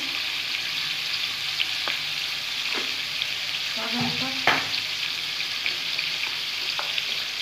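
Semolina (suji) fries and sizzles steadily in a pan for jhal suji upma, a constant close hiss broken by a few soft clinks and scrapes of stirring.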